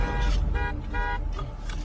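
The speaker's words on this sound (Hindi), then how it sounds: "बजाओ हॉर्न" A car horn honks in several short, repeated toots over a low background rumble.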